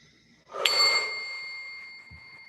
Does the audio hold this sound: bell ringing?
yes